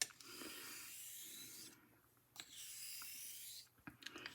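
A straight razor honed with X strokes on a sharpening stone, steady raspy scraping in two long passes separated by a brief pause, close and fairly quiet, ending with a few light taps.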